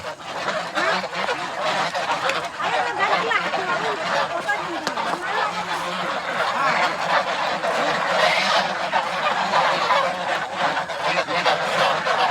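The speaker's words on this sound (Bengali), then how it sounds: "হাঁস এখন ঘরে উঠছে, হাঁসের ঘরে দেখুন।" A flock of domestic geese on a goose farm in Kushtia honks continuously as they return to their shed, loud and close, with people talking over the clamor.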